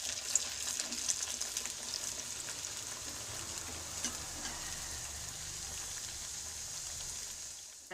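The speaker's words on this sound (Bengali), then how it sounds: "এটা হচ্ছে গরম হয়ে গেছে, আমি এর মধ্যে একটা কচুরি দিয়ে দিচ্ছি।" A kachori drops into hot oil and fries with a soft, steady sizzle and bubbling crackle. The sound stays fairly quiet and even throughout, with no talking.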